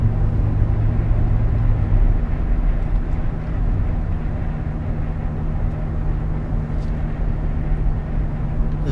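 A 2005 Chevrolet Tahoe Joe Gibbs Special Edition drives along a road, giving a steady, loud low engine rumble with constant road and wind noise, slightly heavier at the start, and no voices.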